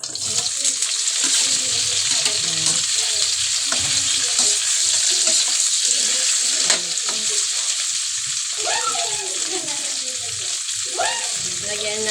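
Tofu fries in a hot pan with oil, giving a loud, steady, hissing sizzle throughout. Soft clinks and bubbling cut in now and then, and there is faint background chatter.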